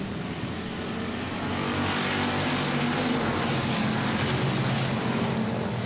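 Street stock race cars at Cotton Bowl Speedway roar off at the start of the main event, a dense, steady engine din filling the track at constant loudness with no voices.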